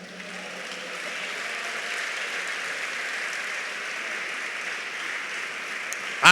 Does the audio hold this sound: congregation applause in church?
yes